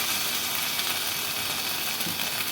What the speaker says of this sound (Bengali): এবার আমি আদা রসুন পেস্টটা এর মধ্যে দিয়ে দেবো।